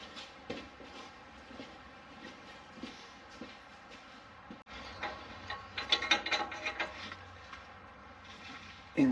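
A ratchet wrench tightens the bolts on fifth wheel hitch rails under a truck, giving a near series of rapid pawl clicks in bursts. Occasional clanks and shuffling movement come through, and it grows louder and busier in the second half.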